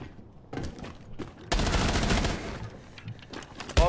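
Bursts of gunfire in the tactical shooter Rainbow Six Siege ring out in quick succession, dense rattling volleys that swell loudly midway, with muffled game noises around them.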